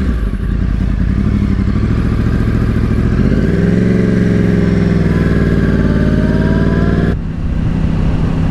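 A 2010 Yamaha R1 rides along with a loud, close engine note. It holds steady, then rises in pitch as the bike speeds up, and drops off sharply near the end.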